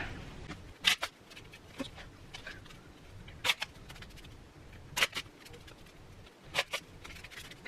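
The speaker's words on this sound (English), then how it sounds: "Let's shuffle these up." A deck of cards being shuffled by hand at a quiet table, with soft riffling and sharp snapping bursts recurring roughly every one to two seconds, close and fairly quiet with no talking.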